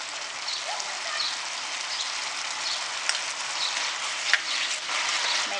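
Egg Manchurian mixture cooking in a pan on high flame: a dense, even, close sizzle with faint crackles and a couple of small pops, no voices.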